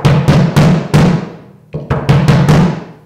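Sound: bass drum kick after tightening batter head

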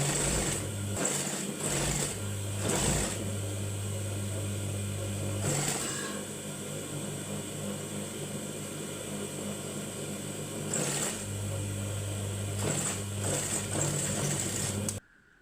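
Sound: sewing machine stitching two pieces of baby top fabric

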